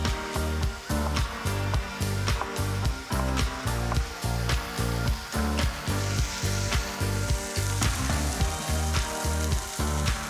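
Bacon lardons cook with onions in a pan, giving a loud, continuous sizzle beneath a strong, regular pulsing rhythm from the cooking setup throughout.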